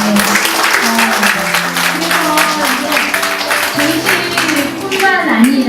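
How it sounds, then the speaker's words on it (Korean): A mixed group, children among them, claps together indoors. The clapping is dense and sustained at a loud level, with voices talking and calling underneath. "한번 박수도."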